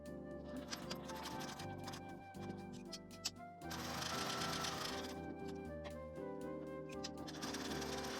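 A sewing machine stitches a seam with a 1 cm allowance on a small accordion-style wallet, running steadily and loud close by, with a brief pause near the middle before resuming its rapid, continuous mechanical chatter.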